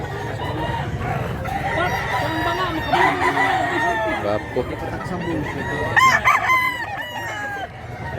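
Roosters crow and hens cluck at a crowded chicken market in Mantalungon, Cebu, several birds calling over one another nearby while someone talks throughout.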